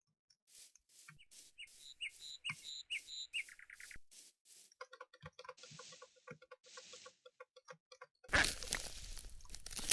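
Bird calls from a modded Minecraft game: a run of clucking, chirping and squawking game sound effects, clear and separate, ending in a burst of harsh noise.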